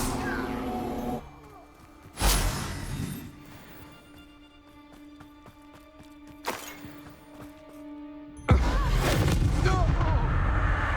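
Explosive spell blasts in the Hogwarts Legacy game, three loud booming bursts spread over the clip with the last one rolling into sustained rumble and chatter, set against steady game music and effects.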